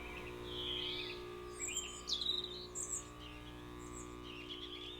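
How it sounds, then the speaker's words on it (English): Birds chirp and tweet in short bright bursts over a steady low electric hum in the Sky ambience of a Roblox procedural Backrooms game. The chirps come in loose clusters and the hum holds constant underneath. "It has like birds with like the light humming"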